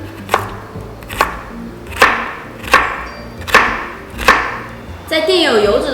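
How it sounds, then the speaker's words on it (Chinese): A knife dices carrots on a cutting board in six sharp, evenly spaced chops, close and clear, followed by a brief scraping sound at the end. "将胡萝卜切丁儿"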